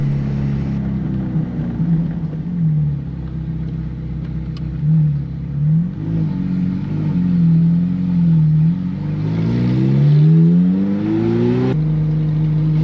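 A Ferrari climbs a steep, narrow, winding road up to a castle, engine note rising and falling through repeated revving surges and gear changes, close and fairly loud.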